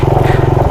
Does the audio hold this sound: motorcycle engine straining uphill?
yes